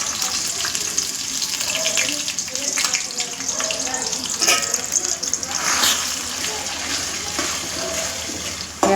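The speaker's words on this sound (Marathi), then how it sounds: "तेल मस्तपैकी गरम झालेलं आहे, त्याच्यामध्ये हा मसाला टाकून घेऊयात।" Chicken masala hitting hot oil in a pan for sukke chicken, giving a continuous bright sizzle and hiss that stays loud and close, with a voice talking over it.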